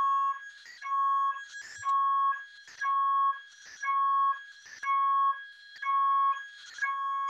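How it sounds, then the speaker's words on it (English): Building alarm at a university, probably a test, sounding alone and loud: a steady pulsing electronic tone in about eight regular bursts, each with a harsh buzzing edge, repeating without a break. "I'm really sorry about this alarm now. I'm in the university. I think it was a test alarm"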